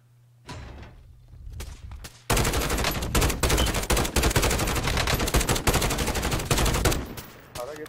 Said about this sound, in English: I'm gonna start shooting.